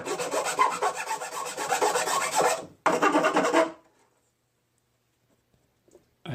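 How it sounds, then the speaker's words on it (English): A 10-inch Craftsman file rasps in steady back-and-forth strokes for nearly four seconds, with one short pause partway through. It then stops abruptly and the rest is near silence. "I actually just opened this file, haven't used it for a long time."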